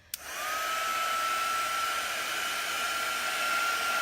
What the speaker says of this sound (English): I'm going to take my heat tool to this and dry this real quick